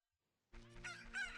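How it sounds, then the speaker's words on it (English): A newly hatched chicken in the video game Zelda: Ocarina of Time crows loudly, a short, bright synthesized cock-a-doodle-doo that bursts in after a moment of silence. "Look, the chicken hatched from the egg you were incubating."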